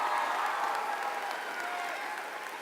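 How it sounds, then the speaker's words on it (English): A crowd in an auditorium at Hammond High School's 2017 commencement claps steadily and loudly, sustained applause that tapers slightly toward the end. "Let's give her a big round of applause."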